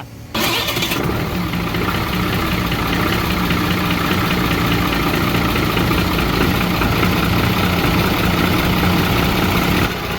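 A motorbike engine catches after a brief start-up burst and settles into a loud, steady idle close by, running continuously to the end with no talk.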